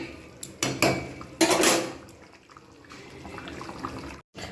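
A spoon clinks and scrapes against pots and dishes while potato chicken curry is served, with close metallic knocks, a burst of clatter, then quieter handling.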